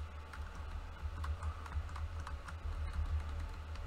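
Typing on a HyperX computer keyboard, a steady stream of close, light key clicks at an even pace over a low constant hum, with no speech.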